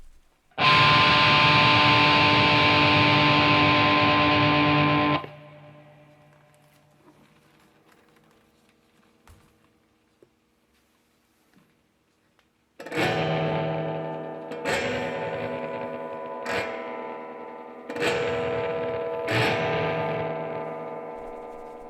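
A loud, distorted electric guitar drone cuts off into near silence with faint ticks, then returns as a gritty buzzing texture with several sharp springy twangs of tremolo springs picked up through high-gain pickups.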